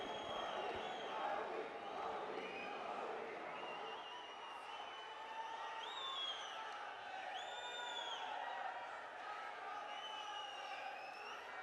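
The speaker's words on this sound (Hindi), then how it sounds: "तालियों की गूंज के साथ मोदी जी का स्वागत करें" A large crowd at a foundation-stone event for Narendra Modi at Bandra Kurla Complex cheers and whoops continuously, a dense, distant roar of voices with high shouts rising above it throughout.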